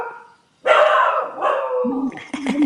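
Dogs give a few loud, close barks and yelps in quick succession, with a brief pause before the first burst and some higher yips near the end.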